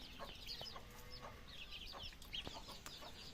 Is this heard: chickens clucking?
yes